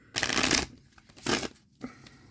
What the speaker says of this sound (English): Good old rifle shuffling.